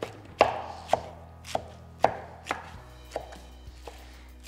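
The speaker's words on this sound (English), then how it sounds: "As I'm chopping, I'm making sure that I'm slicing through the lettuce and the rest of the ingredients," Knife chopping lettuce and other salad ingredients in a chopping bowl, about ten crisp, evenly spaced strikes over a quiet background, close and moderately loud with no talking.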